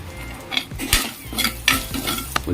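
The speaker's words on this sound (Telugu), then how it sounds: "ఉల్లిపాయలు, పచ్చిమిరపకాయలు మరియు కరివేపాకు రెమ్మలు వేసేసాను." Onions, green chilies and curry leaves fry in a little oil in a kadai, with scraping stirs and clinks of a utensil against the pan over a steady close sizzle.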